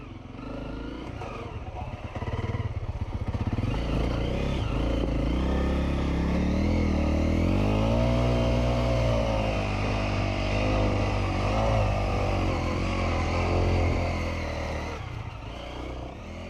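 A motorcycle is ridden on the Horseshoe trail in autumn, its engine loud and close, rising and falling in pitch as it revs over the terrain.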